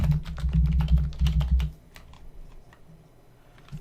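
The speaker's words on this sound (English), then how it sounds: "I'm going to type in my credit card information." Credit card details typed on a computer keyboard come as a fast, close burst of crisp key clicks for about a second and a half, then trail off into a few sparse, quieter taps.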